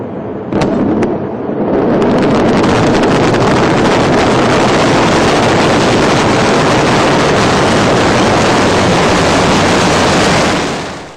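Ariane 5 rocket engines roaring at liftoff, a sudden loud wall of broadband thunder after a few crackles, sustained and close for about ten seconds, with wind buffeting and no talk.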